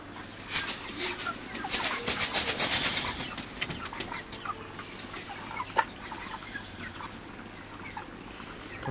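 Large broiler chickens in a poultry shed, a flock clucking and murmuring at moderate distance, busier in the first few seconds then fading to sparse calls over a low steady hum.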